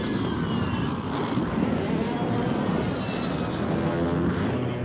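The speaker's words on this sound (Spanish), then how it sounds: "Hay una de helicóptero atrás." A helicopter flying nearby in the Call of Duty Warzone video game, giving a continuous, loud rotor and engine drone with steady whirring that holds at an even level throughout.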